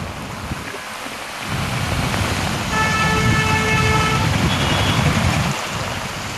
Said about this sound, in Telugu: సాయంత్రం వాతావరణం ఒక్కసారిగా మారిపోయి భారీ వర్షం కురిసింది